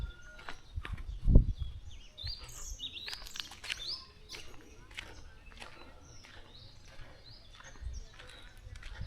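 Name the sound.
many birds chirping at an African village market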